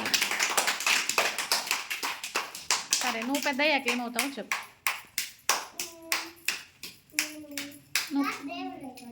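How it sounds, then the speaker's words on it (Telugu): A group of children clapping, a quick run of sharp hand claps that comes in short bursts between a woman's and children's voices talking. "అందరూ క్లాప్స్ పెట్టండి"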